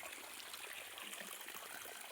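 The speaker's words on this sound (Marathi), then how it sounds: "कसं पाणी चालू आहे बघू शकता आपण" Soft, continuous trickle and gurgle of irrigation water flowing through a field pipeline, quiet and close, steady throughout with no voices.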